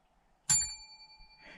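A single loud, bright bell ding rings out during a DIY bread-truck van build, its metallic tone sustaining and slowly fading, followed by a faint rustle, with no talking.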